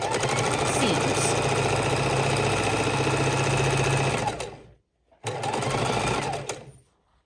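Sewing machine stitching back and forth along baby quilt seams, a fast steady close-up clatter that stops briefly, then resumes for a shorter run before halting.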